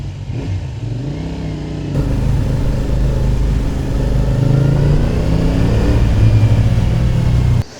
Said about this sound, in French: le bruit moteur est vraiment chouette